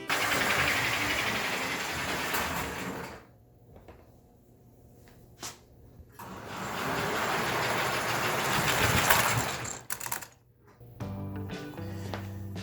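A small model train rumbles and whirs along the track, fading briefly before running again, with a few light clicks and clatters.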